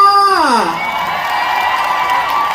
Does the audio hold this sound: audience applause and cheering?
yes